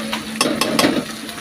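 Spices with salt and turmeric being stirred and fried in a pan for vegetarian khichdi, close scraping strokes of a spoon over a soft sizzle, with a few distinct clanks in quick succession.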